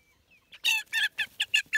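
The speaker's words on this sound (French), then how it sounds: "Bataille de coqs." Sharp, agitated clucks and squawks from fighting roosters burst out close by in a quick, uneven series after a brief quiet start.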